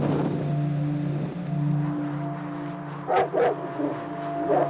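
Police dog units bark at a search scene, a few sharp close barks in a quick cluster near the end after a stretch of engine-like hum.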